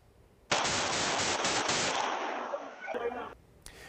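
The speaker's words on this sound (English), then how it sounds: "You can hear the gunshots go off in surveillance video." A rapid burst of gunfire in an alleyway, recorded by a surveillance camera, rings out as a dense, crackling volley lasting a few seconds, then stops abruptly, with a harsh, somewhat distant, compressed sound.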